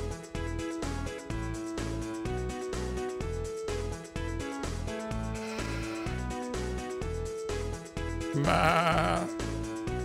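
Repeated sheep bleats from the Bob the Builder: Festival of Fun video game, loud and close, riding over steady rhythmic game music, with a brighter, louder cluster of bleats near the end.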